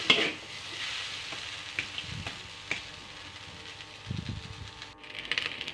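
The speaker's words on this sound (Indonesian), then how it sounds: "Lanjut diaduk-aduk lagi ya" Spatula scraping and stirring brown-rice fried rice seasoned with sweet soy sauce in a frying pan, soft sizzling under intermittent scrapes and taps, close and fairly quiet.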